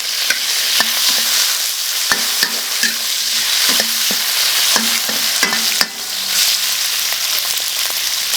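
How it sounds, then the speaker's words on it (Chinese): Meat stir-fries in a wok with a loud, close hiss of frying and a quick run of sharp spatula scrapes and knocks against the metal, with no speech. "把肉炒熟啊"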